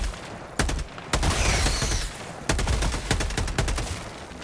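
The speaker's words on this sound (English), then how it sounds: "Where's my machine gun? I want my machine gun." Rapid bursts of submachine-gun fire in Helldivers 2, sharp repeated volleys with brief pauses between strings of shots, loud and close throughout.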